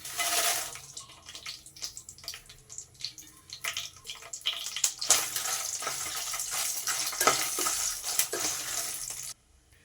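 Dry red chillies sizzling in hot oil in a kadai, a steady close crackling hiss with bursts of spattering throughout, stopping abruptly near the end.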